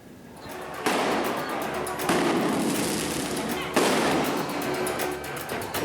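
Several sharp firecracker blasts go off a few seconds apart during a street brawl in an underpass at Manggarai, each leaving a crackling, echoing tail in an enclosed space.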